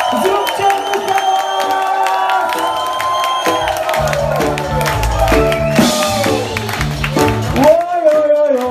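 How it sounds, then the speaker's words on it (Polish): A crowd at a live rock concert paying tribute to a late singer and his band cheers and shouts loudly over the music, with whoops and voices rising throughout; clapping blends into the steady din. "Zróbcie mu brawa!"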